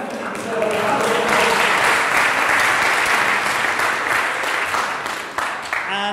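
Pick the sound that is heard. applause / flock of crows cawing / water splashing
applause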